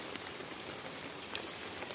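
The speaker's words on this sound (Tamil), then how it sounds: "மட்டை மரவில் தான் மழை பெஞ்சிக்கிட்டு இருக்குது சடசடன்னு நடிச்சது இப்போ கொஞ்சம் லேசாக அடிக்குது" Light rain falls over a village marigold field, making a soft, even patter and hiss with a few faint drip clicks. It stays quiet and steady throughout, with no voices.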